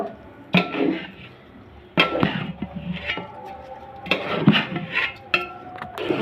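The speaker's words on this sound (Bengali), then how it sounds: "ভালো করে মশলার সাথে আমি মিশিয়ে নিয়েছি" Washed rice is mixed with spices in a metal pot for tehari, heard as close, repeated clanks and scrapes of a spoon against the pot in uneven bursts, with no talk over it.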